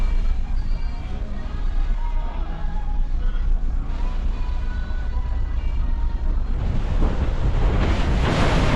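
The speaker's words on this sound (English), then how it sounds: "We're out in the middle of the ocean." Ocean waves roll and wash around a small boat far out at sea near Vanuatu, a constant loud hiss of water and wind buffeting that swells into a stronger rushing surge toward the end.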